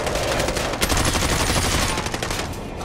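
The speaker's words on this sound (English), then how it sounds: "Somebody else is shooting." Video game gunfire from XM4 and FARA assault rifles, dense rapid bursts of automatic shots that stay loud and continuous throughout, no voices over them.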